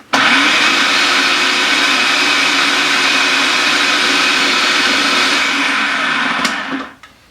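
A food processor grinds roasted beet hummus with tahini, giving a loud, steady, close whirring drone that holds level for several seconds, then winds down and stops near the end. No one talks.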